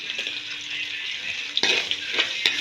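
Onions with turmeric sautéing in a pan for chicken gravy, a steady bright sizzle with stirring scrapes and clinks from a spatula striking the pan, growing busier partway through; no speech.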